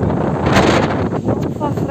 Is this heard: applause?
no